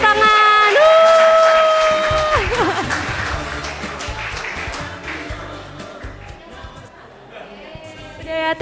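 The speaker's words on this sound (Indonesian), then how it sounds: "Oke, berikan kita tepuk tangan." Church crowd at a GKPS Christmas and section anniversary service breaks into applause and chatter as a sung note fades, the clapping thinning out over several seconds while voices murmur.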